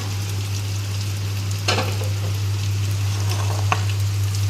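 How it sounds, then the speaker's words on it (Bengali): Soybean muitha dumplings fry in hot white oil in a pan, giving a steady close sizzle throughout with a couple of brief louder crackles and stirring clicks. "এইবারে ভেজে নেব ওই একইভাবে মুইঠা"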